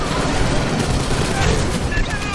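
Sentry guns fire in the video game Aliens Fireteam Elite, a dense, continuous barrage of rapid gunfire and booming impacts that fills the whole stretch without pause.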